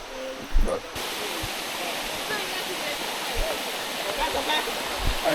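A waterfall pours steadily over rocks near Chiang Mai, Thailand, a loud, dense, continuous rush of water close by, with a brief thump near the start.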